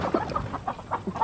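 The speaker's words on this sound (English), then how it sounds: "These are some of the roosters that we've already pulled out of the chick hatching" Several roosters of cream legbar and Bielefelder breeds cluck and call close by in a short, busy burst of overlapping fowl noises.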